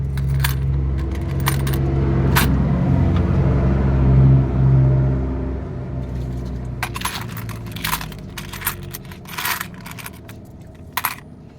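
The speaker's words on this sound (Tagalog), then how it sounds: "Yung barya nila." Foreign coins clatter and clink in a few sharp bursts as they are dropped and handled, close up over a low background rumble.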